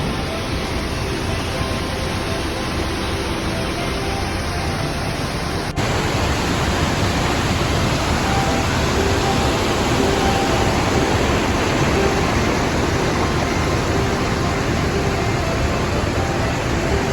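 Kesarval waterfall at Verna in South Goa pours in a steady, dense roar of rushing water, constant and close for the whole stretch with no voices.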